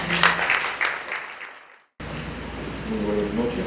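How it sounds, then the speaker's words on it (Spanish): An audience applauds at a book presentation event, a broad wash of clapping that fades out over about two seconds before cutting off. "Aplausos para él, por favor."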